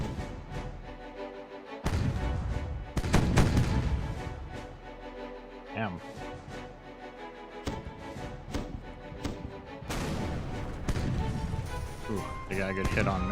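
Ship cannon broadside in the Caribbean Legend: Age of Pirates video game, heard as repeated heavy booming blasts over a busy battle mix of music and effects, with several loud thumps across the passage.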